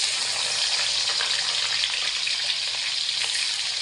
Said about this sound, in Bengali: এপাশে কিন্তু পেঁয়াজটা ভাজা হচ্ছে